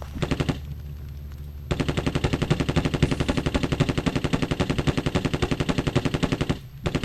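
Gunfire in The Terminator: Future Shock, a loud rapid automatic rattle: a short burst, a brief lull, then a long sustained stream of fast shots before it cuts off.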